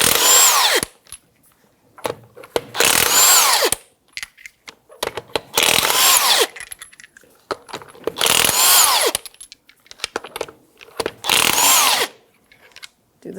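Impact tool with a 21 mm socket spinning off tire lug nuts on a 2009-2014 Nissan Maxima, five loud close buzzing bursts separated by short gaps with faint handling noises.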